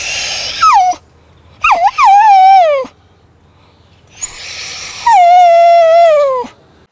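A sick young dog that has been lying down for nearly a week whimpers and whines in three drawn-out, falling cries, loud and close, separated by short silences.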